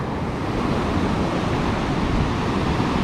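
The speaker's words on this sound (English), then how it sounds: "One of the things that is different is the waves. The waves are braver here" Ocean waves wash onto a secluded beach at Praia da Ursa in Portugal, a continuous loud roar of surf with wind rumble and no break for three seconds.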